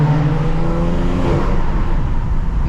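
A catless BMW 335i with a muffler delete drones steadily at close range, a continuous low exhaust rumble with a slight rise in pitch, no voices.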